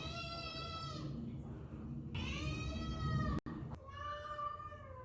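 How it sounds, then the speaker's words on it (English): A pet cat meows insistently while waiting for wet food, three long, drawn-out cries close by with short pauses between them, over a quiet indoor background with a couple of brief clicks. "you guys are just gonna listen to how much she meows"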